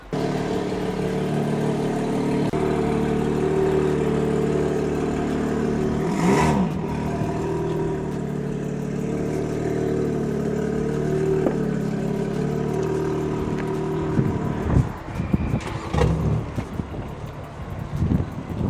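BMW M4 running on E50 fuel, its engine revving in sport mode outdoors, a steady loud mid-pitched drone with a sharp blip of throttle midway and rougher revving near the end, wind buffeting the microphone.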